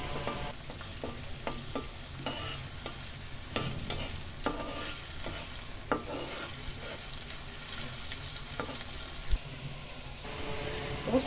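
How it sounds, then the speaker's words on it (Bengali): Chopped onions fry in oil with a soft, steady sizzle. Scattered light clicks and scrapes from stirring run through it at low volume. "এখন তেলের মধ্যে পেঁয়াজটা সুন্দর করে ভাজতে হবে, একদম পেঁয়াজটা নরম করে ফেলতে হবে ভেজে।"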